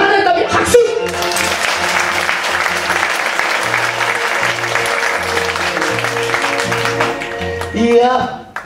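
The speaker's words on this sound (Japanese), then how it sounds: "拍手" A theatre audience at a live comedy show breaks into sustained applause after a sung enka ballad, dense clapping lasting several seconds, with a voice and music heard at the start and end.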